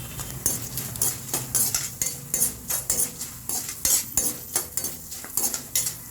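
A utensil stirring cashews in a cooking pan, producing repeated scraping and metallic clinks in a quick, uneven rhythm, close and fairly quiet with a faint sizzle underneath.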